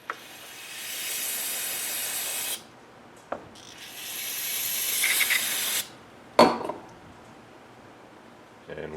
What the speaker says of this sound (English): I'm just going to spray some brake parts cleaner all over this just to clean this up.